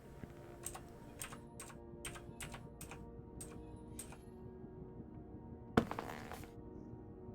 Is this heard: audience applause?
no